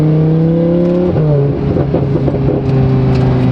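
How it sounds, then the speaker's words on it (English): A straight-piped Lamborghini exhaust roars loud and close, its deep engine note stepping down as the car downshifts, then carrying on in a rough, gnarly drone with no talk over it. "sometimes I just randomly find myself downshifting just because I want to hear how loud this exhaust is now"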